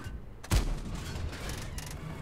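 A single tank cannon shot fires in World of Tanks, a sharp boom that fades into a low rumbling tail against steady in-game background noise.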